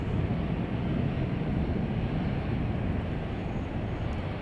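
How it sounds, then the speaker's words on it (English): Boeing 757 airliner from Phoenix taxiing at Chicago O'Hare, a steady, continuous broadband jet engine roar with a low rumble, moderately distant and unchanging throughout, with no talking. "Let's go ahead and see who's taxiing over here. Oh, it's our 757 from,"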